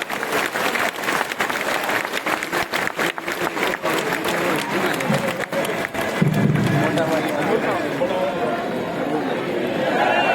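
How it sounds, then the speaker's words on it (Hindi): A large crowd at the Arya Samaj 148th Foundation Day event in New Delhi applauds steadily throughout, dense clapping with cheering voices mixed in, sustained and loud. "तालियां"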